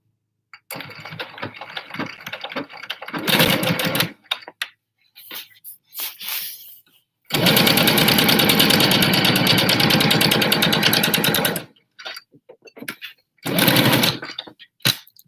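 A regular domestic sewing machine stitches the hem of a batwing-pattern fabric face mask in several bursts of rapid mechanical whirring, a short run, then a long sustained run, then a brief final burst, separated by pauses.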